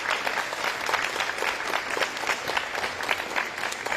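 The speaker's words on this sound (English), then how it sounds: "If you give them a round of applause." An audience at a governor's announcement of school funding gives a round of applause, dense continuous clapping filling the room for several seconds.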